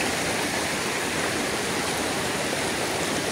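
River water beside a durian orchard rushes in a steady, loud, broadband wash that continues without a break from start to finish, with no voices.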